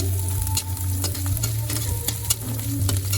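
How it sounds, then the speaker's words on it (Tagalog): Food being stirred in a hot sizzling pan with garlic, a continuous crackling fry with scraping strokes of the utensil and a low steady hum underneath, no voices. "Haluin lang natin siya"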